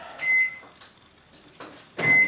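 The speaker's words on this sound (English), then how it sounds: "what we want to do is to microwave it" A kitchen microwave oven hums at a low, steady level with a few bright electronic beeps, used while baking lemon and raspberry cupcakes, with no talking.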